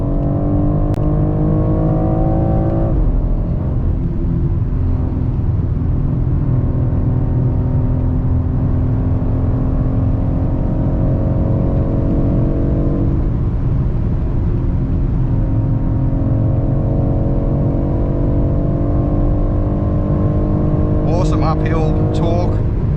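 A 2023 BMW X4 M Competition engine drones and builds under load on the Nürburgring, a steady loud rumble whose pitch climbs, dips, then rises again as the SUV accelerates out of a corner.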